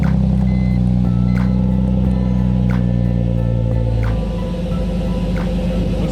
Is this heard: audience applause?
no